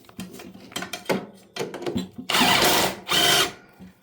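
A power tool whirs in short bursts as it tightens a nut on a Wizard mower, first in brief stuttering pulses, then in two longer, louder spins close by.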